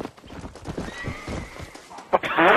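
Horse in Red Dead Redemption gives a loud neigh near the end, preceded by clip-clop hooves and muffled talk.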